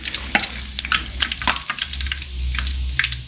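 Tapioca snacks frying in hot oil in a pan as they are turned over, a close, steady sizzle dotted with sharp crackles and pops, with no talking.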